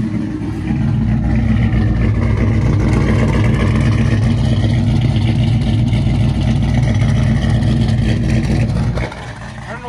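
A turbocharged truck engine runs loud and close, its deep roar swelling through a sustained rev before dropping off sharply near the end.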